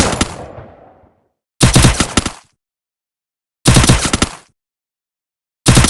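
Automatic gunfire in a shooting video game comes in loud, rapid bursts of about a second each, separated by silent gaps, with dense rattling shots and no voices.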